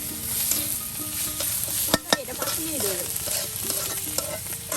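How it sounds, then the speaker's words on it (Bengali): Chopped onion, garlic and green chilli frying together in oil, producing a loud continuous sizzle with stirring scrapes and a couple of sharp utensil knocks against the pan. "পেঁয়াজ কুচি রসুন কুচি কাঁচামরিচ একসাথে দিয়ে কিন্তু তেলের সাথে সুন্দর করে একদম ভেজে নেওয়া হচ্ছে"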